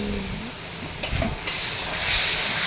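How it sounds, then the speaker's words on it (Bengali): Fish curry bubbles and sizzles in a pan, with a steady frying hiss and a couple of sharp clinks and scrapes from stirring, close and moderately loud. "এই মাছের ঝোল হচ্ছে।"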